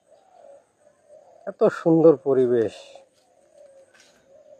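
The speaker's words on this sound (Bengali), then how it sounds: "কিচিরমিচির থেকে শুরু করে ঘুঘুর ডাক" A dove coos softly and steadily in a quiet village in the early morning. The cooing is faint and low, and a voice briefly talks over it in the middle before the cooing carries on alone.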